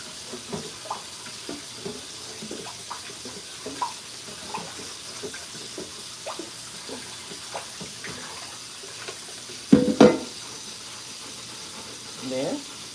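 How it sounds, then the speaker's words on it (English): A cast iron skillet being washed in a kitchen sink under a running tap, a steady soft water hiss with intermittent scrubbing and splashes and one louder clatter, with a voice talking. "One more pan to clean. And that's the cast iron skillet."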